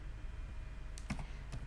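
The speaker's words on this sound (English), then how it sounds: "Again I am typing this function sum." Keys on a computer keyboard are tapped a few times in quick succession while entering an Excel sum function, faint clicks over a quiet background hiss.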